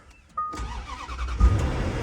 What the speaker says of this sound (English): All right, let's see if she cranks.